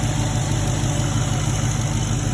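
A 2019 Dodge Charger Hellcat engine idling after a 180-degree thermostat install, a steady loud low rumble with even vibration throughout.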